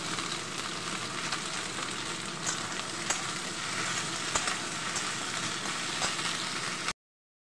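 Onion petals, pulled apart from quartered onions, fry and sizzle steadily in a pan for a chili paneer dish, a dense, even crackle with faint stirring scrapes, up close and with no voices.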